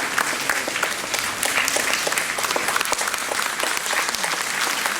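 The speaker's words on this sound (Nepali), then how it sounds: "यस सुन्दर पलमा सबैले तालीद्वारा हजुरहरूले पनि स्वागत जनाइदिनु होला।" Applause from a large audience at a Brahma Kumaris golden jubilee celebration in Darjeeling, a steady dense wash of clapping that fills the whole stretch without any talk over it.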